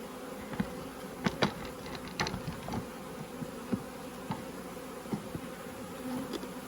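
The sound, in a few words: honey bees buzzing around an open nuc hive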